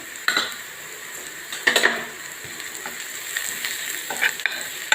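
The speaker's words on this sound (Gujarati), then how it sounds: "બહુ સરસ શેકાવા દઈશું." A paneer filling with salt, ground coriander and garam masala roasts in a pan, sizzling softly while a spatula scrapes and clinks against the metal in irregular strokes.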